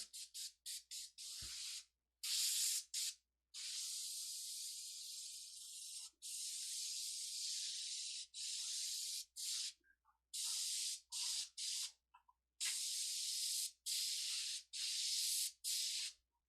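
An airbrush spraying black paint, heard up close as repeated bursts of bright hissing air that start and stop in short and longer spurts, with quiet pauses between.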